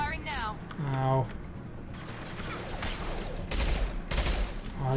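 Gunfire in the video game Mass Effect 2, with bursts of rapid shots and mechanical clatter mixed in among voices talking and game dialogue.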